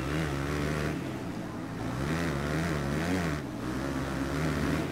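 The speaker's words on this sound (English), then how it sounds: "I'll have the engine sounds turned up as much as I can so you guys can still hear my voice during this gameplay" Motocross bike engines in the MXGP3 racing video game drone and rev continuously, a loud buzzing whine that swells and dips slightly throughout with no voices over it.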